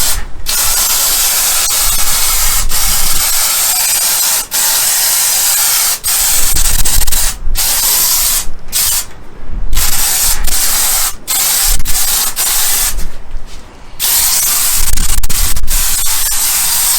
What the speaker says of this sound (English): I'm just going to spray this end real quick